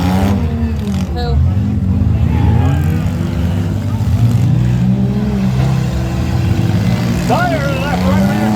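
Front-wheel-drive minivan engines rev and roar at a mini van demolition derby in Hoagland, loud and close, with rising and falling throttle over crowd babble and an announcer talking.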